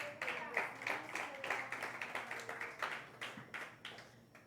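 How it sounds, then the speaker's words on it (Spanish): A church congregation claps in praise, with a fairly rhythmic, moderately loud patter of hands, roughly a few claps per second. Faint voices sit beneath it. "Dale un aplauso al Señor."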